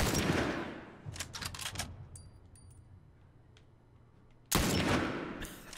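Gunfire in The Last of Us video game: a loud burst at the start, a rapid cluster of sharp shots around the one-second mark, faint scattered pops, then another loud sustained burst near the end.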